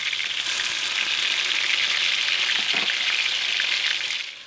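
Chicken tenders, unbreaded and gluten free, fry in hot oil with a steady, dense crackling sizzle that holds evenly throughout before easing off slightly at the end.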